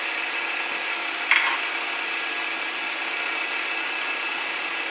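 A lathe cuts acrylic with a steady, close hiss-like whir that holds evenly throughout, broken by one brief brighter scrape near the start.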